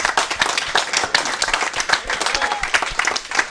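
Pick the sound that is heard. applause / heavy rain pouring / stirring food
applause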